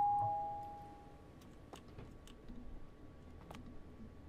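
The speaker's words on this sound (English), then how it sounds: "How about we use the doorbell?" Doorbell in the delivery game Night Delivery: a single clear electronic chime rings at the start and fades over about a second, then quiet room tone with faint clicks follows.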